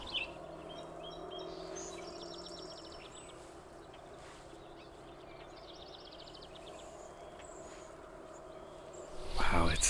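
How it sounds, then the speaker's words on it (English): Warbling vireos, two of them close in front, and a yellow warbler sing in an active morning chorus of songbirds, their repeated warbled phrases carrying over a steady low background hum. "I hear a warbling vireo, actually 2 warbling vireos right in front of me, and I hear a yellow warbler"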